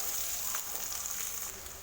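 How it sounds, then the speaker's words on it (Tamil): Chopped shallots sauté in oil with whole spices in a pan, giving a steady, close hiss of sizzling with faint stirring. "அது இதில் சேர்த்துட்டு வெங்காயத்தை வதக்கி விட்டுக்கலாம்"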